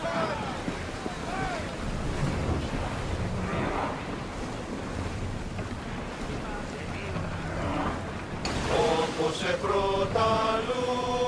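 A sailing ship rides the sea waves in Assassin's Creed Odyssey, with a steady rush of wind and water washing through the whole stretch and a brighter swell of game music rising near the end.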